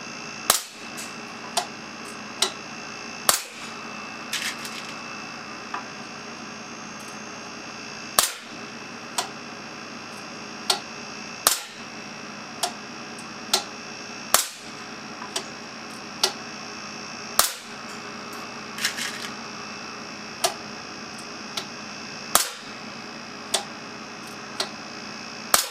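A .177 BB air cannon with a new valve and electronic controls fires at a steel can ten meters away, each sharp crack spaced a few seconds apart in a regular series of about a dozen shots, with faint ticking between.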